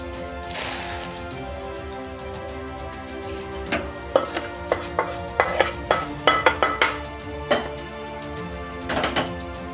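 Roasted sesame and urad dal are tipped into a pan and stirred for pirandai podi: a soft pouring rush, then a string of sharp scraping clinks of a spoon against metal, fairly close and quiet.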